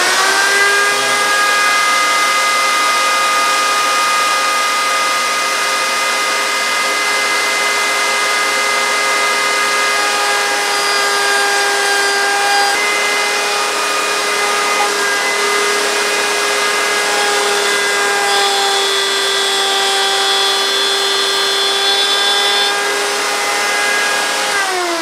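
A router on a router table whines at a steady high pitch for about twenty-five seconds while cutting wood for a knick-knack shelf, loud and close, with the tone shifting slightly under load near the end.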